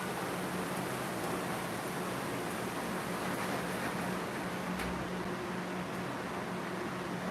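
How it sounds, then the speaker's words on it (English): Rain falling outside makes a steady, dense hiss that holds at even loudness throughout, a soft wash heard from indoors with no voices. "Oop, it started raining."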